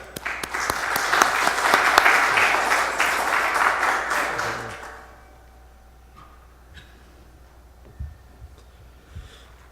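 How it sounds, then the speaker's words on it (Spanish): A seminar audience claps warmly to welcome a professor, a dense roomful of applause swelling for about five seconds before stopping abruptly, leaving quiet room sounds and a few stray knocks. "Vamos a recibir con un fuerte aplauso entonces al profesor Richard Aguilar"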